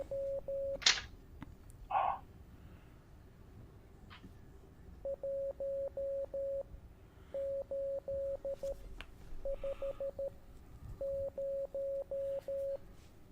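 Morse code beeps in the video game Curious Cases sound as short, steady electronic tones grouped into rapid patterns with brief pauses between groups. A few soft clicks and thumps come before the sequence starts.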